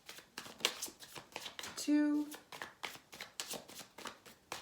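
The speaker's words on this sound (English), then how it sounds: "I'm going to shuffle 4 times" Tarot cards riffle and shuffle in quick repeated bursts close to the microphone, with one longer sustained riffle in the middle, while a person talks and counts over the shuffling.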